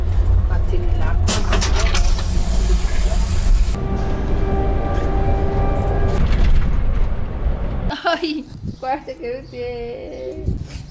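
A long-distance bus with an onboard toilet drones from inside with a steady low rumble, faint whining tones and rattles, then quiets abruptly near the end as someone speaks close to the microphone.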